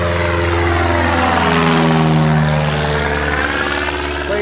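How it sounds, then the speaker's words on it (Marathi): An airplane climbs overhead after takeoff, its engine roar loud and steady throughout, with a broad rushing drone and slowly shifting tones as it passes. "हि तिकडनं विमान येते ती मित्रांनो. आणि इकडं उड्डाण होतं"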